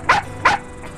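A dog gives two sharp, close barks in quick succession, followed by a fainter third yelp.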